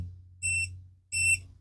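An electrical tester on a home wiring job gives two quick, identical electronic beeps, clear and moderately loud over a low steady hum, with no talking.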